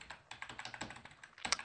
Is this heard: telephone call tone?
no